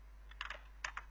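Typing on a computer keyboard while writing PHP code, a few quiet, close keystrokes in two short bursts over a low steady hum, with no talking.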